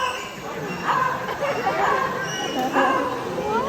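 A bird mimicking a dog's bark at a safari park in Cebu, giving a few yappy bark-like calls close by, with people chattering in the background.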